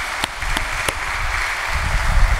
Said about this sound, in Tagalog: Bigyan natin mahal ng Panginoon isang malakas na palakpak